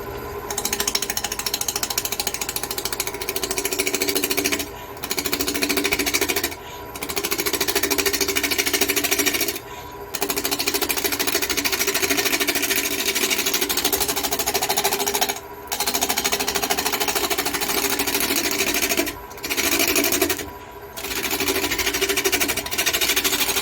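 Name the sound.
woodturning gouge shaping wood on lathe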